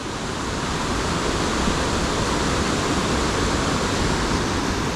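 Dave's Falls waterfall in Amberg, Wisconsin roars in a loud, unbroken rush of white water that stays steady and close throughout.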